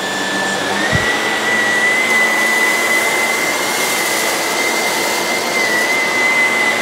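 A Shark Navigator upright vacuum cleaner runs steadily on carpet, a loud, continuous motor whine with a constant high tone, heard close up and alone after a brief click at the start.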